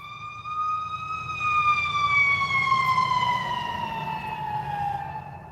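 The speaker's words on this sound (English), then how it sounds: "let me let these sirens go by." A fire engine siren wails past on a street, a loud rising-and-falling tone that slowly drops in pitch as the vehicle passes, over a low rumble of road traffic.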